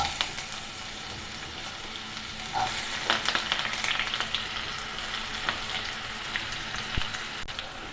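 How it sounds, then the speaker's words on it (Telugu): Onion frying in a small amount of hot oil for chicken pepper fry, a dense continuous crackling sizzle with brief louder spatters and a few light stirring knocks, close and steady, no talking. "ఈ హీట్ అయిందండి, ఆనియన్ యాడ్ చేస్తున్నాను నేను."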